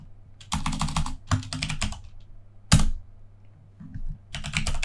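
Bursts of typing on a computer keyboard, entering terminal commands while installing RISC-V tools for a Nexys A7 100T board, come in quick clattering runs with short pauses between, close and clear with no talk.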